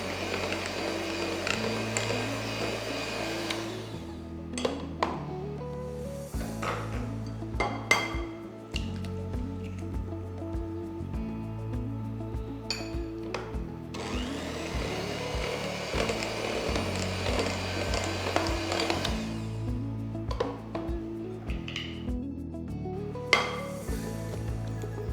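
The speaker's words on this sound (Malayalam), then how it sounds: "ഒന്ന് ബീറ്റ് ചെയ്യാം, ലൈറ്റായിട്ട് ബീറ്റ് ചെയ്യാം." Zebra cake batter of eggs, butter and maida flour is beaten in a bowl with a continuous buzzing whir, broken by brief stops, restarts and light clinks against the bowl.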